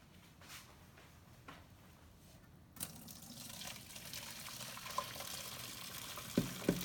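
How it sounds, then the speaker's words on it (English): Hot water from boiled corn and potatoes is drained for Cajun shrimp, a soft rush of pouring liquid that swells after a few seconds, with light clinks of the pot near the end. "we're gonna just take all the water out of the corn and the potatoes."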